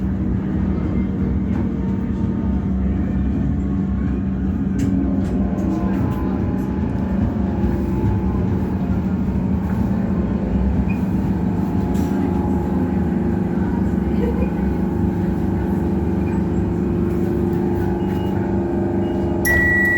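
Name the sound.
train at a Melbourne railway station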